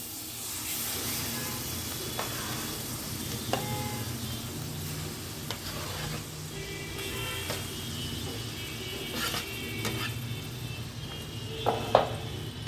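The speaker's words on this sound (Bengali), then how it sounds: "তো ঘিটা গলে গেলেই আমি এবার ছানাটা এর মধ্যে অ্যাড করে দেবো।" Chhena (cottage cheese) sizzles softly in melted ghee on a low flame, with a faint steady frying hiss and occasional scraping clicks of stirring.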